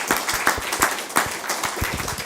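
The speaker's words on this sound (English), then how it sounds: "Round of applause, please." Audience applause at a community launch event, a dense crowd clapping steadily and fairly close for a couple of seconds, with individual sharp claps standing out from the wash.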